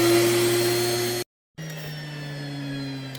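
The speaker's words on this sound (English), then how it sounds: "We're gonna get that cup and then we'll grind up the rest of it." A Nutri-Mill electric grain mill grinding grain for sourdough bread gives a loud, steady motor whine with a rough grinding hiss. It cuts out abruptly for a moment, then restarts at a slightly lower pitch.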